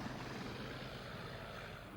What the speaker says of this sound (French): celui-ci assiste à un vol d'essai quand le V-173 disparaît derrière un rideau d'arbres